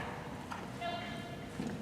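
Hooves of a young horse being ridden clop faintly in an arena, a few soft beats buried under continuous talk and a low background hum.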